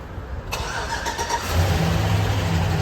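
A Toyota Corolla Spacio engine cranks and starts, then settles into a steady idle hum, heard close up.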